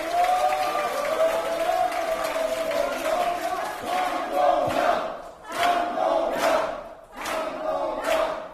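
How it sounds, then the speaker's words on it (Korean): A crowd at an outdoor political party rally in Daegu roars and cheers, with a sustained chant giving way to surging waves of applause and shouting that swell and dip several times, loud and close. "정말 감사하고 큰 박수 한번 보내주십시오."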